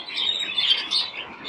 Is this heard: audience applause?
no